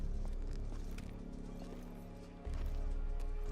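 Horses trotting with a steady clip-clop of hooves in the Telltale Game of Thrones video game, a brisk rhythmic beat heard close and continuous, with a brief whinny and a louder surge near the end, no speech.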